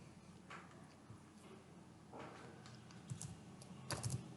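Someone types code on a computer keyboard, producing soft, faint clicks in scattered short bursts that pick up toward the end.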